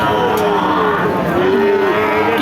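A young heifer calf moos repeatedly in drawn-out calls at a busy cattle market, the lowing carried over a steady din of crowd noise and other livestock.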